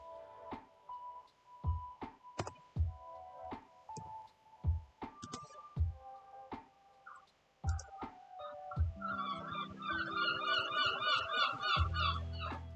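Gulls calling outdoors, a run of sharp honking cries at irregular intervals, then a denser chorus of overlapping squawks building toward the end, fairly close.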